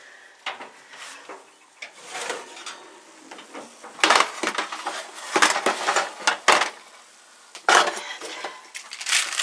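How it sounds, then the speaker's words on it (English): A metal baking tray scraping and clanking as it slides out of a kitchen oven during Salisbury steak cooking, with a run of loud, irregular rattles, knocks and clatters close by. "Let me pull this tray out of the oven."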